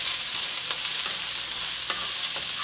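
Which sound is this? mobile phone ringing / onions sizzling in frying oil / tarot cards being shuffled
onions sizzling in frying oil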